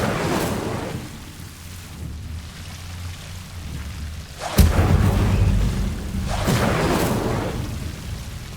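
Incendio fire spell cast in Hogwarts Legacy, a loud whooshing burst that flares up suddenly over a rumbling, booming game ambience, with a second fiery swell following a moment later.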